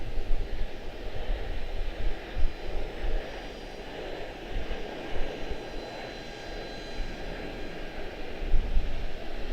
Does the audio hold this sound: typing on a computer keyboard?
no